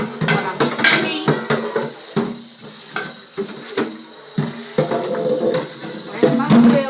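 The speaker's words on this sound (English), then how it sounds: "Rinse out my pot for when I'm mixing meat." A metal cooking pot is rinsed and handled at a home kitchen sink before mixing hamburger meat for lasagna: irregular clanks and scrapes of metal, near and fairly loud, with a voice heard in the background.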